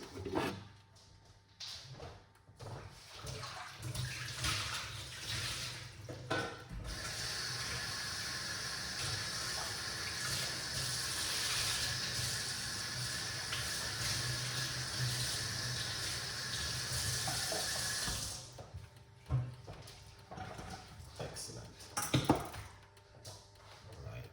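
Tap water runs steadily for about ten seconds while items are rinsed beneath it, bracketed by soft kitchen clatter and handling sounds.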